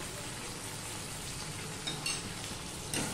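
Pre-fried ridge gourd and sugar sizzle in a pan, a faint, even frying hiss with a few soft clinks and stirring scrapes toward the end.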